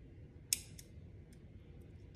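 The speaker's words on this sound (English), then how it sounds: "I have some scissors and I'm going to just trim" Scissors snip coriander seeds over a nectarine and lemon salad, giving two sharp, close clicks about a second and a half apart, with fainter ticks in between, over quiet room tone.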